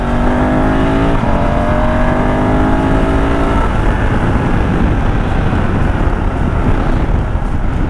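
A BMW GS motorcycle fitted with a Dominator HP1 exhaust and decat pipe revs hard and loud, its engine note climbing in pitch, then dropping into a rough, raspy roar buffeted by wind.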